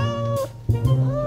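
A cat meows twice up close, loud and drawn out, with a brief pause between the two calls and no talking over them.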